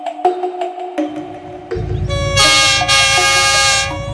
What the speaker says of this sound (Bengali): ওই তো ট্রেন আসছে